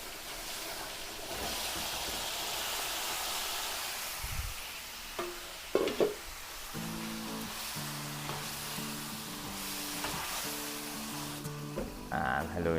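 Marinated beef sizzles steadily in a hot pan while being stirred for a Filipino Christmas dish, a continuous close frying hiss broken by a few scraping knocks of the spatula against the pan.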